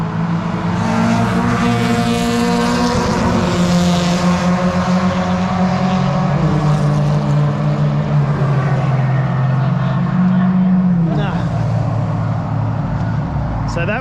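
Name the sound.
race cars accelerating at the start of an endurance race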